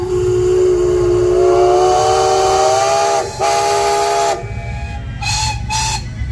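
A steam locomotive called Samson on a heritage railway sounds its whistle in one long, loud, steady blast that breaks off briefly, returns, then gives two short toots, over a constant hiss of steam.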